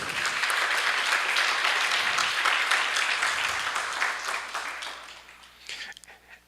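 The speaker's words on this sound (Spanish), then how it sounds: "Denle un aplauso al Señor por eso." A church congregation claps in sustained, dense applause, loud at first then thinning and tapering off toward the end.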